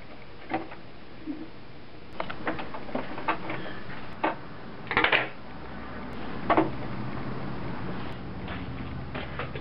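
A serger stitching fabric pieces of boxer brief underwear together, heard as close clattering mechanical ticks and short bursts of stitching that start and stop irregularly, with no voices.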